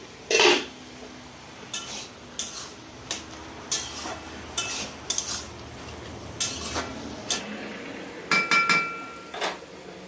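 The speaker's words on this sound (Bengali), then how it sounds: "মিনিট হয়ে গেছে আমি ঢাকনা খুলছি" A metal pot lid comes off and clatters during Bangladeshi cooking of a sour fish curry with raw tamarind, mango and ginger; a loud clank opens the clip, followed by scattered lighter knocks and scrapes of utensils, with no voices.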